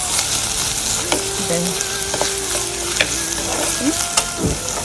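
Onions fry in a pan with a dense, steady sizzle, close and fairly loud, broken by occasional scrapes and knocks of stirring, with no voices.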